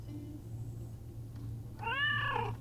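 A cat gives one clear, rising-and-falling meow near the end, heard close over a steady low hum, outdoors in the sun at Philae in Egypt.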